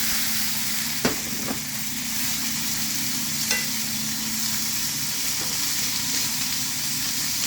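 Pork belly stir-fried in southern Thai chili paste sizzles steadily in a hot pan, a constant close hiss with a couple of faint clinks of the spatula.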